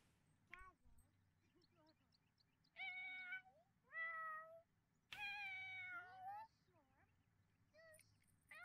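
Cats in The Sims 4 life-simulation game meow repeatedly in several drawn-out, wavering calls, clear and prominent, with a person talking between and over some of them.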